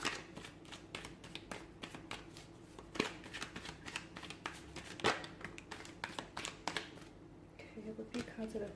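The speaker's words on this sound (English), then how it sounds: "give the cards a shuffle" Tarot cards are shuffled by hand in a rapid series of crisp riffling flicks and soft slaps, close but quiet, with short pauses between bursts.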